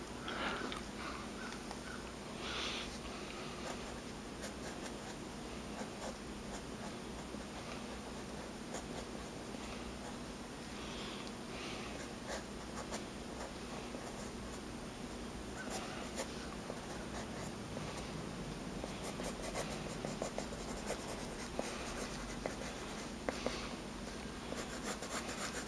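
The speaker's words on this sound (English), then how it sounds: "So I'm just using a regular school number two pencil here." Graphite from a regular school number two pencil scratching steadily across paper while sketching, a continuous soft rasp of strokes close up, with no talking.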